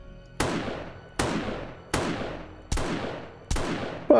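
Gunfire from a weapon in the video game 7 Days to Die, five single loud shots spaced evenly about a second apart, each with a sharp crack and a decaying tail.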